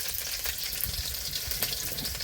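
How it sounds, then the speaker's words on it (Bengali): Hot oil sizzles continuously around prawns frying in a pan for a traditional Bengali meal; a dense, even hiss sits close to the mic, scattered with small pops and no talking. "এই চিংড়িগুলো তেলে ফেলে দিলে লাল লাল করে সুন্দর ভেজে যায়।"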